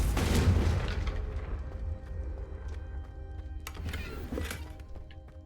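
Confringo blasting spell bursting candelabras in Hogwarts Legacy: a heavy booming explosion at the start that decays, then a second, softer blast with crackling debris a few seconds later, over a steady game ambience.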